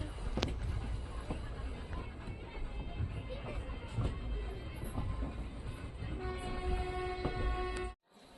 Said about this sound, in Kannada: ಆಪೋಸಿಟ್ ಬರೋ ಟ್ರೈನು ತಿರುಪತಿ ಗುಂತ್ಕಲ್ ಪ್ಯಾಸೆಂಜರ್ ಬಂತು ನೋಡಿ